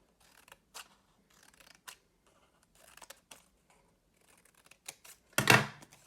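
Scissors cut into a playing card: sparse soft snips and handling ticks, then one louder crunching cut near the end, close and otherwise quiet.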